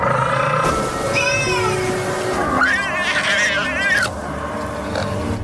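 A cat cries in a Korean ghost drama scene with a drawn-out, wavering meow that rises and falls, set against dense background music and scene noise.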